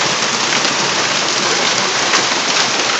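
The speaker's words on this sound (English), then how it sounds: "those are some pretty good sized hailstones." Hailstones pour down in a Rutland, Vermont storm as a dense, loud, continuous hiss and patter of impacts with a few sharper hits, no talking.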